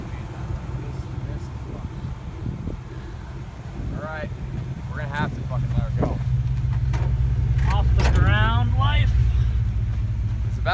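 A 1998 Chevrolet Silverado truck driving offroad, its engine rumbling low and steady, growing louder midway, while people talk over it.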